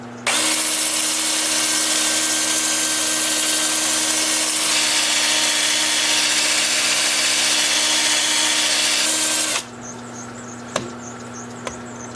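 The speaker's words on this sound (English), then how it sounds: "And the lathe is turning at about 350 RPM." Wood lathe turning a laurel bowl at about 350 RPM while it is sanded, a loud steady whine with abrasive hiss that cuts off sharply near the end, leaving a low hum and a couple of clicks.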